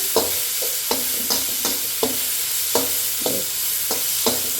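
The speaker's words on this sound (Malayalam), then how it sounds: "ഉള്ളി ഉള്ളി ഒന്ന് വഴറ്റാൻ പോവാണ്" Red shallots (small red onions) sautéing in a pan for a pappadam curry, a steady bright sizzle broken by about ten sharp scraping stirs at a fairly regular rhythm, close and clear, with no voices.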